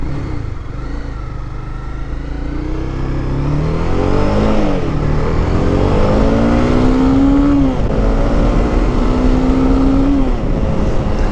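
A Honda CBR300R motorcycle fitted with a knock-off muffler revs and pulls through a U-turn on a street, its engine note climbing and falling in loud rising sweeps as it accelerates, with no talking.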